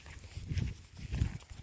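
A newly bought cow walks along a farm path, its hooves thudding in two soft, low bursts of muffled steps against faint outdoor background noise.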